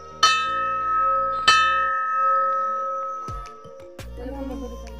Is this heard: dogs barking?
no